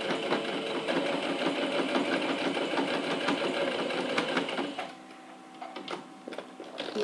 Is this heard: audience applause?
no